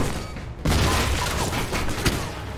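Grenade blast and gunfire in the video game Alpha Protocol: a sudden loud boom followed by a dense, sustained roar of rapid shots and explosions, close and overwhelming.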